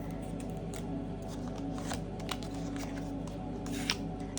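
A deck of tarot cards is shuffled close by, a soft riffling and sliding with a few light flicks over quiet room tone.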